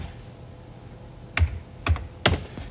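A few separate computer keyboard keystrokes, three distinct taps spaced about half a second apart, close and moderately loud over a quiet room background.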